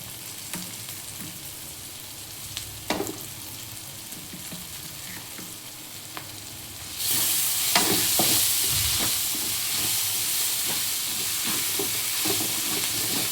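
Ginger garlic paste stirred into frying onions for chicken kulambu: a quiet background sizzle jumps into a louder, bright hiss partway through, with scattered spoon scrapes and taps against the pan, close and with no talk.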